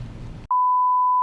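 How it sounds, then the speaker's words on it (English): A steady, loud censor beep at one pitch cuts in abruptly after a brief stretch of talk and holds to the end. "Gotta beep that one out."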